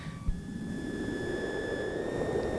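Steady hissing wash of filtered noise, like rain or wind, comes from a storm preset on a Korg MS-20 mini synthesizer, with a faint thin whistling tone held above it and a brief low thump near the start.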